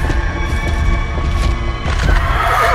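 A ghost horse neighs loudly in the horror game DreadOut Keepers of the Dark, the whinny rising over thudding hoofbeats and a dark, rumbling game soundtrack.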